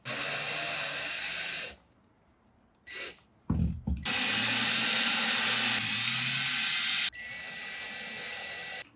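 Running water rinsing off a polished shifter knob, a loud steady close hiss that stops, returns after a few clunks, and continues in long sustained stretches.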